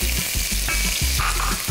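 Chopped onion sizzles steadily in hot oil, a close, continuous crackling hiss with soft rhythmic stirring.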